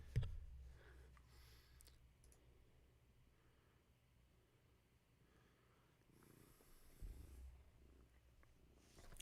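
A pet cat named Frosty purrs close by in a steady, low continuous rumble that swells louder near the start and again toward the end, with faint clicks and no talking.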